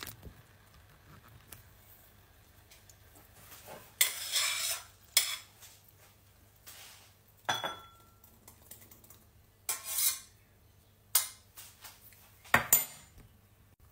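A spoon scrapes and clinks against a pan and small dish while a strawberry and cream cupcake mixture is transferred, sharp irregular metallic taps and scrapes over a quiet background.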